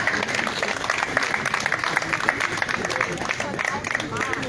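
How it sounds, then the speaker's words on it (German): A crowd at an outdoor spring festival with a fish market in Erbach im Odenwald claps for the sponsors, dense continuous applause mixed with crowd chatter throughout. "bitte auch einen Applaus an die Sponsoren"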